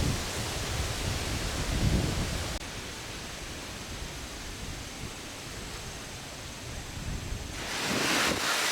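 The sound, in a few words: wind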